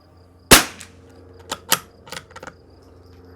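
A semi-automatic .22 rifle fires Norma TAC-22 subsonic rounds at a target: one sharp, close, loud crack, then several lighter snaps and clicks spaced over the next two seconds.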